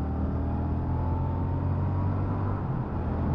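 2023 Royal Enfield Super Meteor 650 motorcycle accelerating on the road, a steady low engine drone with rumble and wind, continuous and fairly loud throughout.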